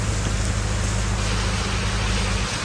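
Heavy rain pours down steadily on a farm during a storm, a dense, even hiss with a low rumble underneath, continuous and close.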